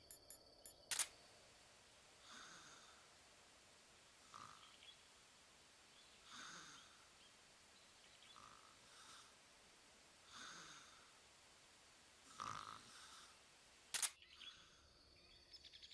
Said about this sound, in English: I can hear him snoring.